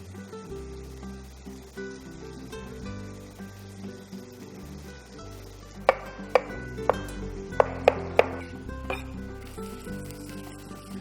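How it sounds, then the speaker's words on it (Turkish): A knife cuts tomatoes on a board while onions cook in butter, with a run of sharp, evenly spaced chopping taps in the middle over a steady kitchen background and faint sizzling. "Soğanlarım güzelce pişerken ben domateslerimi kesmeye başlıyorum."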